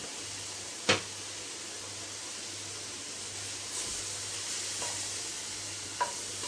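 Food frying in a very hot, smoky wok for a prawn curry, a steady soft sizzle and hiss with a couple of sharp clinks of a utensil against the pan, faint and close.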